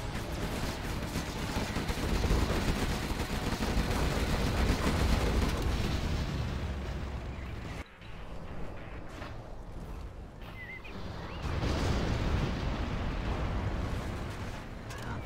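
Dense, continuous barrage of booming video game cannon fire and explosions, loud and sustained, with a brief lull before the rumbling volleys resume.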